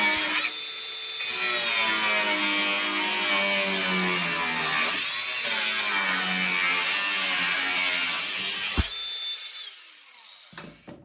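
Power tool cutting through the seams of old Mini car body panels, a steady, loud grinding whine that runs for about eight seconds with a rising pitch, then cuts off abruptly, leaving a quieter tail.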